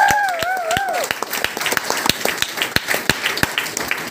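A crowd at a business meeting claps in a steady, slow unison rhythm of sharp, evenly spaced claps, with a brief voice heard at the start.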